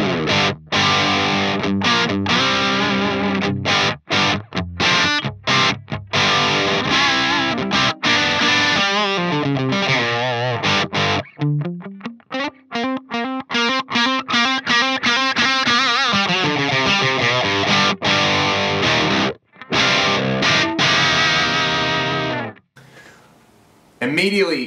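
Electric guitar played through the overdrive channel of a Fractal X-Load with the gain low, heard through a Cab Lab impulse response. Chords and single notes are mildly distorted, with rhythmic strums and brief pauses, loud and up close, then a short quiet tail.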